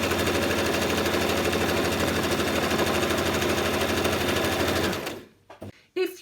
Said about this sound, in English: Sew the piece of material along the 8-inch rough edge.